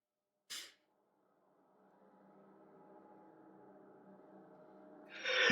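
A single short, sharp sneeze bursts out near the mic during a tabletop role-playing session, followed by quiet breathing and room noise that slowly rises.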